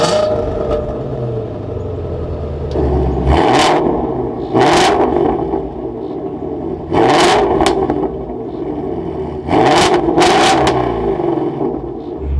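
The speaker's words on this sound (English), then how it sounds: "So let's start this up with my foot on the brake and the clutch, put it into neutral. We can bring this to life." A Ford Mustang Shelby GT350R manual sports car fires up and its engine is blipped in four or five loud, sharp revs over a steady idle rumble, with no talking.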